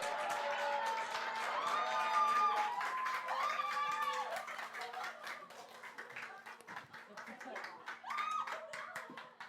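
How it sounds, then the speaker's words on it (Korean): Applause in a church during a Sunday afternoon service as children come forward, a loud sustained round of clapping with some cheering, while a voice speaks over it. "더 큰 박수 부탁드리겠습니다"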